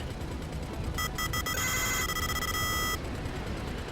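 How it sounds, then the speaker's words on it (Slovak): Repeated electronic missile-lock warning beeps from an aircraft in GTA 5 Online's The Titan Job finale, a fast stuttering burst that settles into a steady tone for about two seconds over constant game noise. "Pípa mi raketa"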